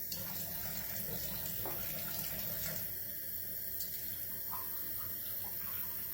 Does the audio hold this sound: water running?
yes